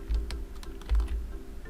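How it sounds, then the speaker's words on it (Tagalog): Two quick presses on a computer keyboard give a Ctrl+A shortcut in Photoshop, producing crisp, close plastic clicks with a dull thud and a few lighter taps between them and no voice. "Control A nyo mga katambay sa inyong keyboard"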